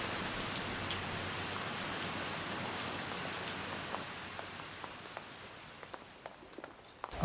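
Steady rain falls and patters on surfaces along a hillside hike in England's northern Pennines, a dense continuous hiss with scattered louder drips, easing slightly toward the end with a few close taps.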